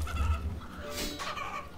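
Chickens in the game RuneScape 3 cluck softly in a few quick, rounded bursts, with a low background hum and no talking.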